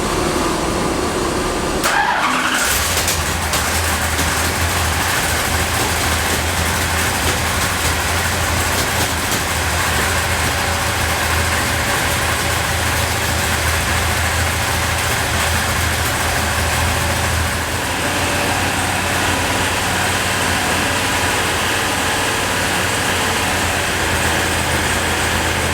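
A 505 cubic inch stroker wedge engine runs on a dyno during its break-in warm-up, a loud, close, steady roar that fires up after a brief gap near the start and holds for the rest of the stretch, with no talking.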